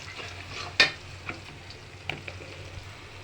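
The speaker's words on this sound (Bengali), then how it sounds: "ভাজা হয়ে আসছে," Onions, bay leaves and whole garam masala spices fry in hot oil as the base for a chicken roast, giving a steady low sizzle with one sharp utensil clink and a few faint taps.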